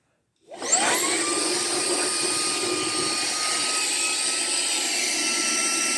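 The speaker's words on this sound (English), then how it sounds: "Now we can see how well just hooked up straight to the vacuum." A Ryobi HP cordless stick vacuum starts up and quickly rises to a loud, steady high-pitched whine. It keeps running evenly with a whooshing airflow roar and no voices.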